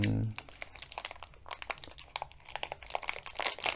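A small plastic bag with a glue strip crinkles and crackles as it is peeled open, close and fairly loud, in uneven bursts of rustling.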